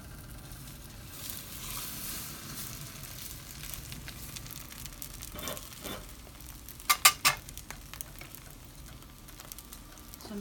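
An egg paratha sizzles softly in a pan over low heat, with a quiet steady crackle of frying and a few brief sharp clicks near the end.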